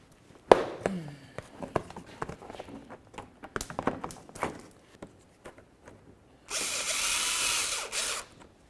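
A power drill runs bolts into the fog light bezel of a 2006-2012 Ford Fusion: scattered clicks and taps of parts being handled, then a loud steady whir of the drill for about two seconds near the end.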